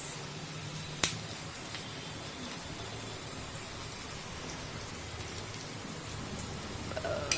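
Mustard seeds and cumin crackle and spit in hot oil for a Gujarati tempering while dosas are made at home, a steady dense patter of fine pops with one sharp louder snap near the start.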